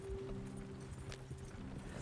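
Horses gallop in Red Dead Redemption, hooves thudding in quick rhythmic beats close by, with a faint low tone running beneath them across a brief stretch.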